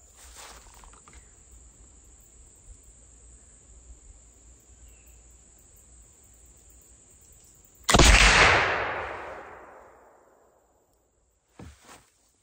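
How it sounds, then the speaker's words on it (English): A .36 caliber flintlock rifle fires one loud, close shot that booms and fades over a couple of seconds, with steady insect buzzing before it and a few faint clicks afterward. "we're going to shoot it a few more times to see if we can start putting them in that black dot"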